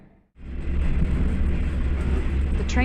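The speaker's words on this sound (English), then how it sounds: "The train departs from Kushigahama Station and heads towards Tokuyama Station, its final destination." A train pulling away from Kushigahama Station on the former Sanyo Main Line in Yamaguchi toward Tokuyama. A low, steady rumble rises abruptly after a brief quiet and holds loud and close, with a short tonal squeal near the end.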